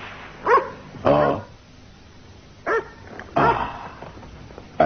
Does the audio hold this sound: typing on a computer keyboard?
no